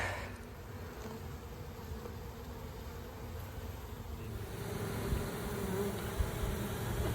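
Honeybees buzz around an open hive frame holding brood and a little honey, a soft continuous droning hum with faint wind in the background and no talking.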